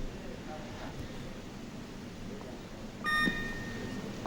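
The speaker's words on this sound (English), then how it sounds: "there's the 30-second buzzer" At a 2005 world weightlifting championship snatch event, a short electronic buzzer sounds once for the 30-second warning, cutting through the low arena murmur.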